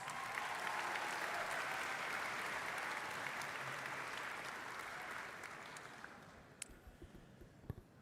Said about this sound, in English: Let's give one round of applause to videographer Paul Shirk as well as Steve Brooks